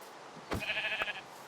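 A sheep in Minecraft gives a single short, nasal bleat, close and clear against faint background noise.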